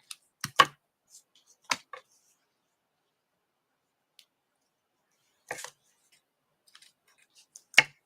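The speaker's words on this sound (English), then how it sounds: "Oh, those are not scissors for baker's twine for sure." Scissors cutting baker's twine during a paper craft project, heard as a few sharp, brief snips spread apart in an otherwise quiet room, with no voices.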